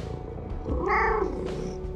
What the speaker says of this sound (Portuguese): esse é o ronronar dele